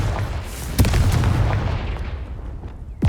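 Confringo blasting spell explosions in the Hogwarts Legacy video game, a sharp booming blast followed by a rumbling decay, with further muffled impacts trailing off over a few seconds.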